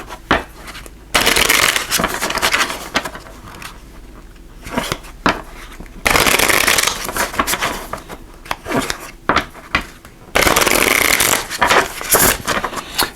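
A deck of love oracle cards being shuffled in loud, rough bursts of riffling and rubbing, with three long stretches separated by quieter pauses of lighter handling.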